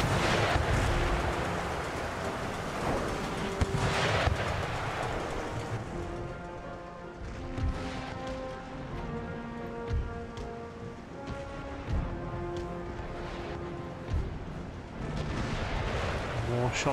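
Naval cannon broadsides from warships in Empire Total War during a Baltic sea battle: heavy booming volleys and scattered shots over a dense roar of continuous battle noise, with music and a voice talking throughout.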